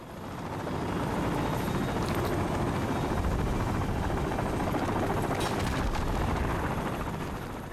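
An evac helicopter arrives in Call of Duty: Modern Warfare, its rotor thudding in a loud, steady roar that swells in and holds throughout, with no voices over it.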